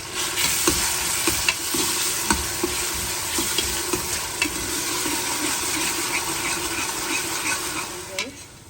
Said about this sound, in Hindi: इसी ऑयल में हमने अब 2 प्याज डालने और उसको लाइट ब्राउन होने देना है।